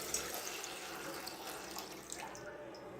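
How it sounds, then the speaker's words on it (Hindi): Water runs from a tap into a cooking pan for boiling vermicelli in a home kitchen, a steady close splashing stream that carries on throughout with a faint voice in the background. "अब हम यहाँ पर एक पैन लेंगे, इसमें हम पानी ऐड करेंगे"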